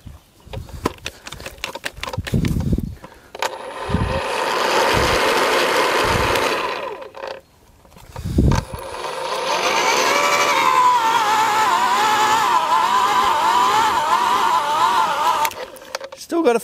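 A battery-powered AEG post hole borer drills into potting mix, a steady motor whine that bogs down and surges, with short bursts at first and a long continuous run, close and loud.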